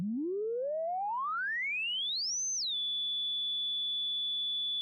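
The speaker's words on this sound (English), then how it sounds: "So now we really are hearing harmonics." Synthesizer harmonics rendered as pure sine tones in VCV Rack: a single clean tone glides smoothly upward over about two and a half seconds, then settles and holds steady alongside a faint low drone, alone and without voices.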